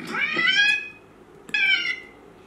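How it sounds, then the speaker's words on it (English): A cat lets out two drawn-out, rising squeals, one at the start and another after a brief pause, close and loud with no talking. "Kitty start to squeal,"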